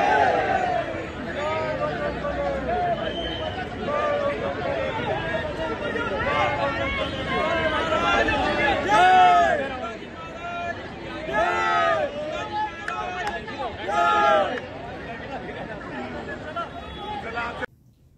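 A growing, restless crowd at Dadar Kabutarkhana in Mumbai, with many voices chattering and calling over one another in a continuous loud hubbub that swells in bursts, close and dense throughout.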